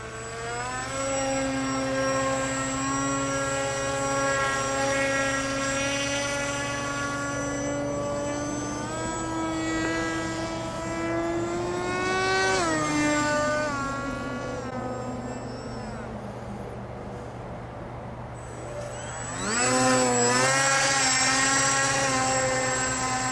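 An RCPowers SU27 RC plane with an electric motor and 8 inch prop flies outdoors at partial throttle, its whining motor tone rising and falling in pitch as it passes, loudest surge near the end.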